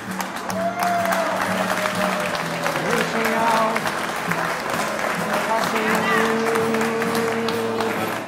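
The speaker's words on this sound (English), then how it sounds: "Judging by the applause of the crowd alone, you'd think this proposal was a success." Crowd applauding a public marriage proposal, sustained clapping and cheering that swells and holds for several seconds, with voices and a thin high tone running underneath.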